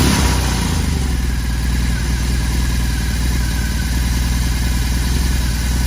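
A BMW R 18 motorcycle idles on a lift, a steady, loud low engine rumble with a fast even pulse and light mechanical clatter, running alone without a break.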